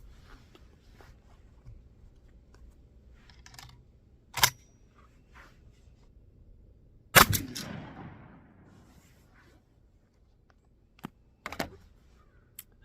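A Mossberg SA-20 shotgun with a Rectifire Spade Series choke fires Winchester XX 3-inch 5-shot loads, a few sharp, separate reports at moderate distance, one booming with a trailing echo, amid otherwise quiet outdoor background.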